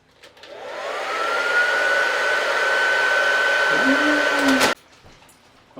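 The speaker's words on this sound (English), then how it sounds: "You ready to do a hairdryer now?" A hair dryer whirs up and blows steadily at close range for several seconds while drying a parrot after a shower, then cuts off abruptly; a brief voice is heard near the end.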